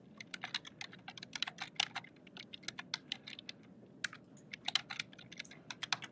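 Quick, close typing on a computer keyboard while entering a variable name, with irregular bursts of crisp key clicks separated by short pauses over a quiet room background.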